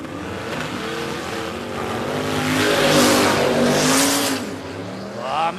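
A Chevy Malibu wagon runs a no-prep drag race at Warwick Dragway in Australia, its loud engine revving and building as it accelerates down the track, then easing off near the end.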